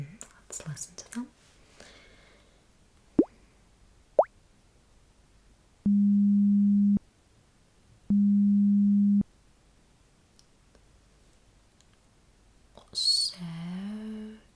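Two bubbly sine-wave beep tones in an ASMR hearing-test roleplay, each lasting about a second and separated by a short gap, clean and steady against near silence, with soft whispering and small mouth sounds around them.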